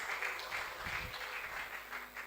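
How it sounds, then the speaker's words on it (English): A seated audience at a real estate wealth-creation talk claps in a brief, steady burst of applause, heard alone and at moderate distance. "Give him a round of applause, please."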